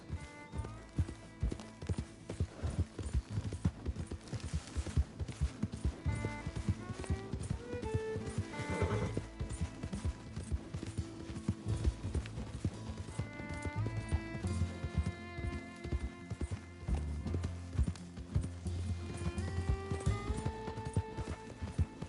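Horse galloping in the Red Dead Redemption video game, rapid rhythmic hoofbeats pounding continuously under a musical score for the whole stretch, with no voices over it.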